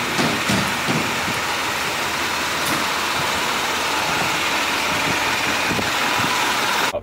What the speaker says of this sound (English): now that we have the truck started, let's go ahead and pull it out of the garage.